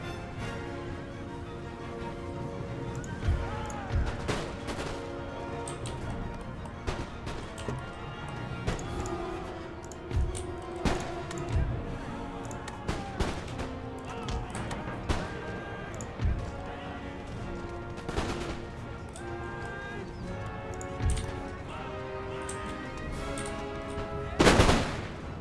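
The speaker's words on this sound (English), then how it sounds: "Lovely bit of shooting into the flank of that assaulting unit." Musket volleys crackle through a Napoleonic-era line battle in Empire: Total War, scattered bursts of shots rolling irregularly across the field, with a heavier crash near the end, over continuous battle music and ambience.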